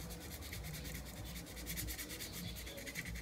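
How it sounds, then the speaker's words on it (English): Steady, close rubbing of sandpaper over a replacement fishing rod guide, a continuous dry scratching with even strokes and no voices. "I sandpaper it a little bit."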